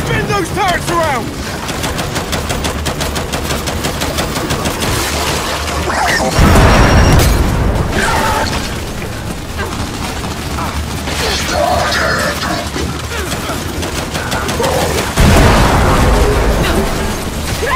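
Turret gunfire rattles through a Gears of War 5 battle, loud sustained bursts mixed with mechanical whirring and heavy booms, as game characters shout over the din.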